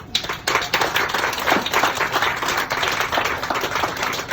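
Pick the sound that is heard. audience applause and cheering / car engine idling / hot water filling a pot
audience applause and cheering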